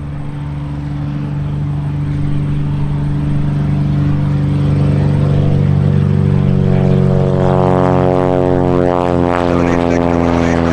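A propeller airplane takes off from runway 18 right during minimum-interval departures at EAA AirVenture Oshkosh, its engine a loud steady drone that rises in pitch and power as it accelerates close by.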